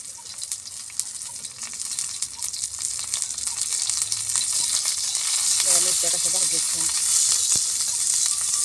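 Green chillies and garlic fry in oil in a pan on a wood-fired clay stove, with a steady loud sizzle that swells slightly and a few light stirring clatters partway through.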